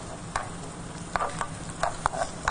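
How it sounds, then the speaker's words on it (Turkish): Oil and onions sauté in a pan for a green-olive pastry filling, producing a soft continuous sizzle punctuated by several clinks and scrapes of stirring, close and with no voices. "Yağımızı soğanla beraber kavuruyoruz şu an."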